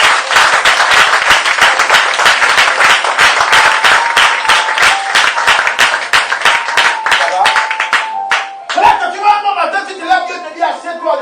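Loud, sustained applause and clapping from a church congregation, dense and rhythmic for about eight seconds, then breaking off into a voice speaking as the clapping fades.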